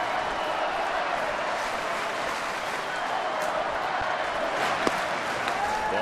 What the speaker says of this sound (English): Now the Let's Go Tigers chants ringing down from the sellout crowd.